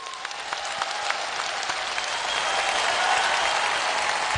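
An audience applauds a dance crew called Best Crew at a live stage show, a dense, steady wash of clapping that swells slightly toward the end, with no talk.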